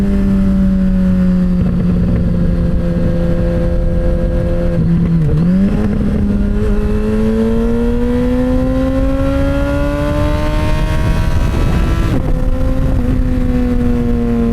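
Suzuki Hayabusa motorcycle with a new exhaust revs high and loud up close, engine pitch climbing steadily with a brief dip and a sharp blip near the end, a continuous roaring whine with no talking.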